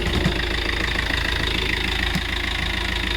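The engine of a 2016 Beneteau Oceanis 48 sailboat runs steadily at idle, a close, even mechanical rumble with a light knocking texture and no talking over it.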